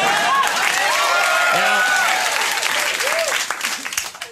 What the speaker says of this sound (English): Why that got applause, we may never know.